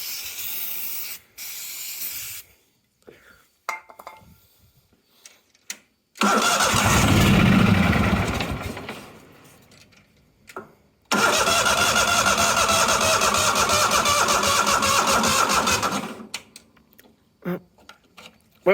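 A neglected 1998 Yazoo YTKC22 three-wheel mower engine, on a weak battery, is cranked in two loud bursts of several seconds each, separated by quiet pauses with small clicks and handling noises.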